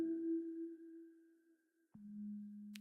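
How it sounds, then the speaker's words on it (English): A plucked, organic-sounding synth arpeggio from a Jazz Note plugin with auto pan plays soft sustained tones, one held note dropping to a lower note near the two-second mark, faint and alone. "So I've got an arpeggiator on a Jazz Note plugin, which is a sort of plucked organic sound"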